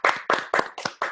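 Five sharp, evenly spaced claps from a small audience, close and clear, a slow handclap for someone being congratulated.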